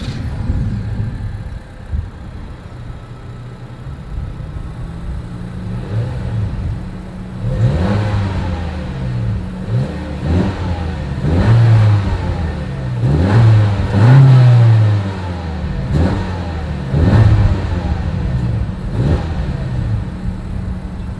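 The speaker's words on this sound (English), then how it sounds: "As always, here is that exhaust clip." A 2020 Honda Civic engine revs repeatedly in sharp blips over a low idle, the exhaust rumbling loud and close with no one talking.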